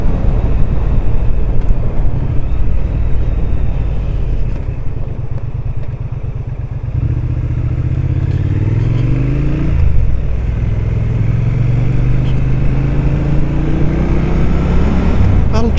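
A 2025 Triumph Speed Twin 1200 motorcycle being ridden, its engine note steady and loud throughout, with a rumbling drone that shifts pitch around the midpoint as the revs change, close to the rider with no talking.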